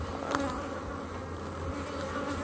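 Honey bees buzzing at a hive whose colony likely carries varroa mites, a steady dense hum from many insects close by with one brief louder pass, no voices.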